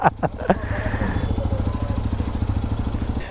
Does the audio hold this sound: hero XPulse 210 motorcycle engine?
yes